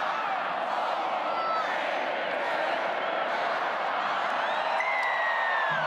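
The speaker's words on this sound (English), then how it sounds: "The crowd reaction tells the story." A large stadium crowd at the 2017 Rugby League World Cup, Australia v England, cheering and whistling as the teams walk out, a loud continuous roar with shrill whoops rising over it.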